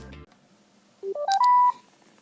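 A Sena BiKom 20 intercom switching on plays a short rising sequence of electronic beeps ending in a longer held tone, clear and close after a brief click.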